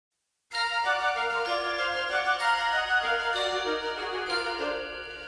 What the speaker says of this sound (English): Then in the percussion, you have these crotales coming in